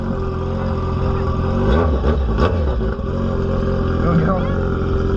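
A motorcycle engine idles close by, then surges through a couple of quick revs that rise and drop sharply before settling back to a throbbing idle, with people talking over it.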